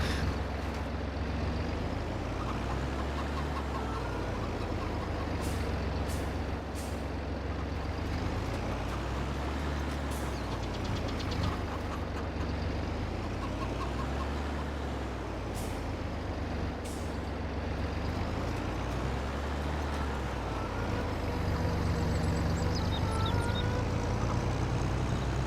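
Tractor engine in Farming Simulator 22 runs as a steady, loud, low diesel drone for the whole stretch, with faint periodic clicks and hisses on top and no talking.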